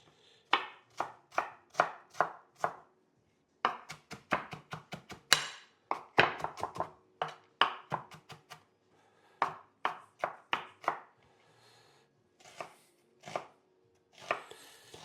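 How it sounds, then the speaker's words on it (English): A knife chops meatball ingredients finely on a board in a sharp rhythmic run of close, crisp strikes, grouped in bursts with short pauses and a few sparser taps toward the end. "So we're just going to finely chop this."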